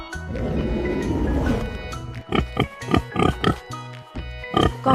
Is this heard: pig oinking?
yes